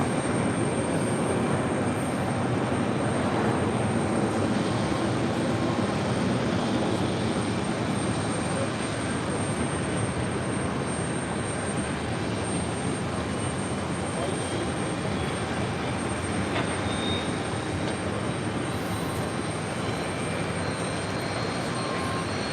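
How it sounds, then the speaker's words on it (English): Delta Air Lines Airbus A330-200 arriving at JFK, a continuous loud jet engine roar with a faint high whine held for the whole stretch, with no voices. "That was Delta Airlines Flight 107 coming in from Frankfurt on that A330-200."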